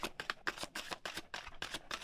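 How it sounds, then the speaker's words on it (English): Oversized tarot cards are shuffled by hand, a steady run of soft, rapid papery riffles and flaps at close range, with no talking. "I don't know how people could shuffle these"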